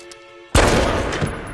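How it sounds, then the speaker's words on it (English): Gunfire in a shootout scene from the film American Psycho erupts suddenly after a quiet moment, a loud burst of shots followed by ringing, rumbling reverberation that slowly fades. "He's really in the shootout right now."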